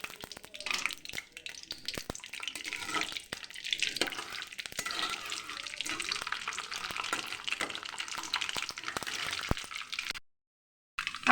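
Mustard seeds fry in plenty of hot oil for a bilimbi pickle, a dense, steady sizzle and crackle that fills the clip with no voices, then cuts out briefly near the end.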